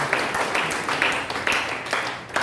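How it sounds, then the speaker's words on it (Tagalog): A church congregation claps in several loud, rhythmic bursts roughly half a second apart, filling the room with hand-clapping and no clear speech on top. "pumalakpak ng malakas sa ating Panginoon"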